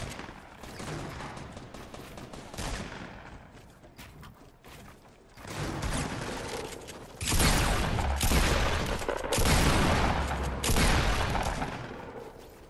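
Repeated gunfire in a Fortnite battle royale match: dense bursts of rapid shots that build louder in the second half, with shots overlapping and echoing in close succession.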